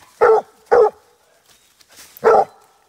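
Young hound puppies playing with big dogs, giving three sharp, loud barks close by, two in quick succession and a third after a short pause, with a faint whimper between them.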